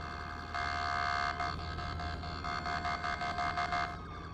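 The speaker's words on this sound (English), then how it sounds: "New sirens and new horns." A new police siren from a Police Week update of a video game, a loud electronic wail that holds steady and then switches to a rapid pulsing yelp, sounding alone without talk.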